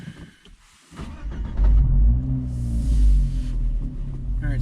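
A 2020 Fiat 124 Spider Abarth fitted with the Record Monza exhaust pulls away, its engine note swelling from a quiet idle into a loud, rumbling, throaty drone heard from close by.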